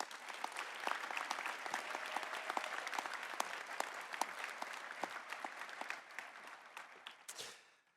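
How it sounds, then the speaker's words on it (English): A graduation ceremony audience gives the faculty a round of applause: dense, steady clapping from a large crowd that holds even for several seconds, then tapers off and fades out at the end. "give your entire faculty a round of applause"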